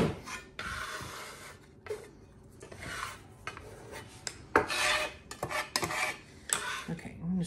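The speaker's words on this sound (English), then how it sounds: "I might get my little bench scraper to help not waste any of that." A bench scraper scrapes a dry spice mixture across a hard surface in short, irregular rasping strokes and taps, close and fairly quiet, with no talking.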